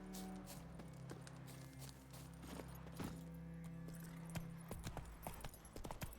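Roach, the horse in The Witcher 3, clip-clops along with a steady run of close, crisp hoofbeats over a low ambient hum, the hooves growing busier toward the end.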